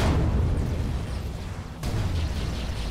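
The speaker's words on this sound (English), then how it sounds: "All these explosions." Continuous heavy rumbling booms of space battle explosions in the video game Disputed Space, dense and loud, with a fresh blast hitting partway through.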